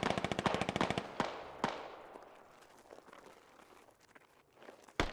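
Rapid bursts of automatic gunfire in a military video game, loud and close at first, then scattered single shots and echoing cracks fading into the distance.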